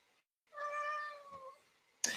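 A cat meows once, a clear drawn-out harmonic call at close range, followed by a brief sharp noise.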